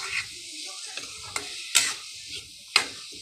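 A spoon stirs ground cumin and meat masala in a frying pan, making a series of sharp scraping clicks and light sizzles at irregular intervals, close and fairly quiet.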